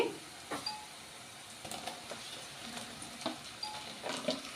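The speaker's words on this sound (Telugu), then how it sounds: "ఇదంతా చక్కగా ఫ్రై అవనిద్దాం. ఇప్పుడు ఇందులోకి టమాటాలు వేసుకుందామండి" Masala with tomatoes frying in a pan for pakodi curry, a soft continuous sizzle with occasional clinks and scrapes of a spoon stirring, no one speaking.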